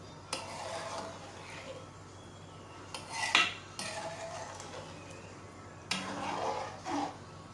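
Stirring chicken and potato pulao in a pot, with a few distinct scraping clinks of a spoon against metal spread across a quiet, moderately close kitchen background.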